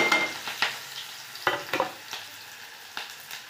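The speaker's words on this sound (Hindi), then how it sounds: "मिर्च प्याज दोनों डाल दिए हैं, अब ये तला रहे हैं, इनको अच्छे से तल लेंगे।" Green chillies and chopped onion frying in hot oil: a steady close sizzle with scattered sharper crackles and a few stirring scrapes, no voices.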